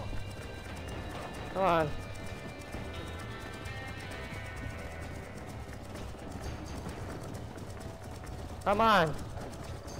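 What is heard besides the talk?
horse galloping in video game Red Dead Redemption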